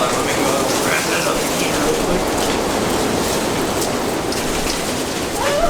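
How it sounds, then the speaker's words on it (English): Constant loud rain and wind roar outside a garage during stormy weather, a dense unbroken wash of noise with no distinct events. "it's a tornado outside"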